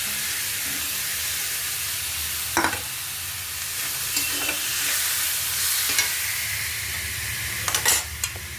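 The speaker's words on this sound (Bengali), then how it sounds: "এখানে আলু ভেজে নিয়েছি, মশলা দিয়ে দেবো।" Already fried potatoes are stirred with spices in a pan, a constant hissing sizzle broken by a few sharp spatula scrapes near the start and end.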